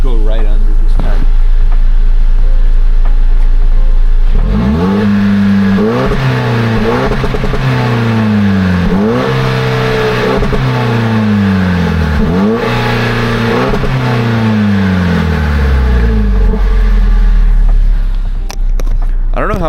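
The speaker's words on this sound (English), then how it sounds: "I'll give you guys another exhaust clip." A 2024+ Toyota Tacoma with an SXTH Element off-road trail pipe exhaust revs repeatedly, rising and falling in deep bursts up close, with a steady engine idle rumbling underneath.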